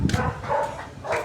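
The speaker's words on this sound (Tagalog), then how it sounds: "Yan ang dalawa kong aso" A couple of dogs bark and yip in short bursts, close by, with a soft whimpering tone between the barks.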